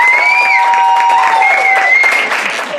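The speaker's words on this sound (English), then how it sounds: "Give a round of applause." Wedding guests applaud after a toast to the groom's brother, a dense patter of clapping mixed with cheers and raised voices. It holds steady and loud, then thins slightly toward the end.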